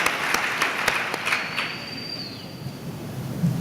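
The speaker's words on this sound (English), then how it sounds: "So one more round of applause." Applause from an audience, a dense wash of clapping that holds steady throughout at moderate loudness.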